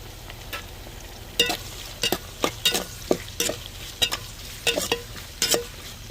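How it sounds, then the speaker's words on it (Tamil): Tomato, onion and ginger paste sautéing in a pan on the stove, a low sizzle broken by about a dozen sharp stirring scrapes at an uneven rhythm, close and moderately loud with no voices. "தக்காளி வெங்காயம் இஞ்சி பேஸ்ட்லாம் அடுப்பில் வதங்கி வரட்டும்"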